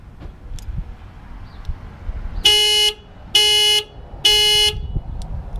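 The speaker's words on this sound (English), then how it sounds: "the original horn" Three loud, sustained horn blasts from a 2012 Kia Optima's original horn, each under half a second, sounding close with short gaps between them over faint background noise.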